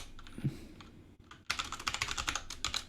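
Keystrokes on a computer keyboard, typed while writing benchmark code for a parser: scattered taps at first, then a brief pause, then a denser, louder burst of quick, close clicks with no voice.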